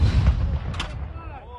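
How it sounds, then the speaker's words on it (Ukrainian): Artillery fire at a military training range, a single deep, heavy boom that rolls out and decays over a second and a half, loud and close. "Постріл!"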